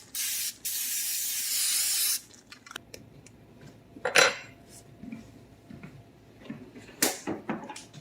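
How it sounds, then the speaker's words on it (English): Cooking oil is sprayed around the edges of a skillet pan before cake batter goes in, a steady close hiss of about two seconds followed by faint clinks and handling of pans and utensils. "I'm going to take some oil and I'm going to spray the edges of my pan"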